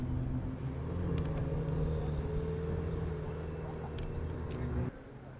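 A Ferrari sports car with a custom wrap at the Gold Rush Rally in Scottsdale gives a steady low engine rumble that holds for several seconds before dropping away, with faint clicks over it.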